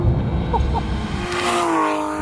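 Porsche 911 GT3 Gen 1 with a 3.8 litre, 475 bhp flat-six revving to 9,000 through a JCR exhaust, its loud engine note sweeping upward with a brief tyre-like squeal, close and intense.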